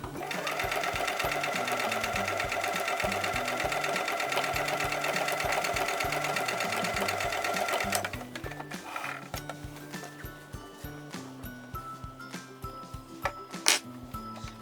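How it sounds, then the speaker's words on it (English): A sewing machine stitches down a seam line on a quilt block, running steadily and loud for about eight seconds before stopping, then soft handling clatter and a sharp clink. "now I'm going to sew down the line on the left hand side."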